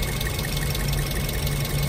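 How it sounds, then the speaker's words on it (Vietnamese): A used 2014 Toyota Vios J sedan idles with its engine running smoothly, a steady, even low hum with a faint mechanical whir, heard up close with the hood open and no voices. "Máy nổ rất êm."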